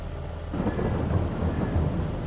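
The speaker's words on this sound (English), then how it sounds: "The rain is here." Rain in the Farming Simulator 22 video game, a dense low rumbling downpour with thunder-like roll that swells in after a quieter start and holds steady, with no talking.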